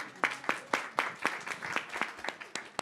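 Applause from a festival talk audience: sparse, distinct hand claps at a loose, regular pace, fairly faint and a little distant, with no speech on top.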